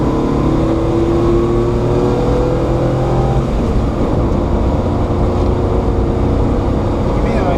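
A small truck's engine revs and labors steadily up close as it is driven with a manual transmission, a continuous loud rumble whose pitch shifts with throttle and gear changes.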